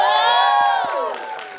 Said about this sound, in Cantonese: 聽到續集呢兩個字係咪又應該俾啲掌聲咧？